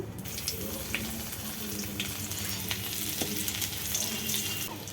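Garlic sizzling in hot oil in a home kitchen pan, a soft continuous crackle with faint scattered pops and occasional clinks, fairly quiet throughout.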